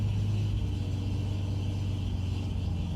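A 1974 Jaguar E-Type Series 3 V12 roadster idles on choke just after a cold start, giving a continuous deep exhaust rumble that holds steady and close throughout, with no talk.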